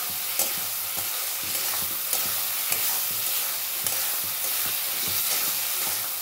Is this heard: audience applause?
no